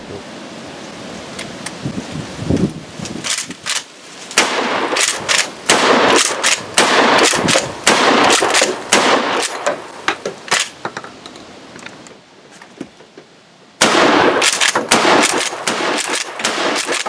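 A Mossberg 500 12-gauge pump shotgun fires repeatedly at an outdoor range, loud sharp blasts in rapid, irregular succession with brief pauses, then another dense burst of shots near the end.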